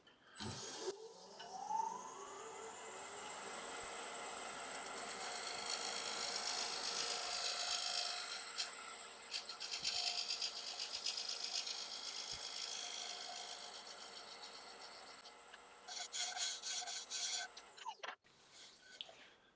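A wood lathe whines steadily as a tool cuts into a spinning oak plate, with scraping and rattling bursts before the motor winds down at the end.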